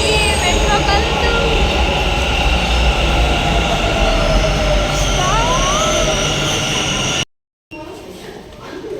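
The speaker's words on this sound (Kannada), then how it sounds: "ಮೆಟ್ರೋ ಬಂತು" A metro train pulls into a station with a loud, steady rumble, squealing wheels and a rising whine before the sound cuts out abruptly near the end.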